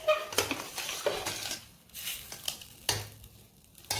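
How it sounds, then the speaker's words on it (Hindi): Potatoes being roasted in a kadhai and scraped off its surface with a spatula for aloo kachori filling, giving repeated metallic scrapes and clatters over a soft sizzle, close and moderately loud. "आलू कढ़ाई में चिपकता है, इसलिए हम इसको इस तरह से खुरचते हुए आलू को भूनेंगे।"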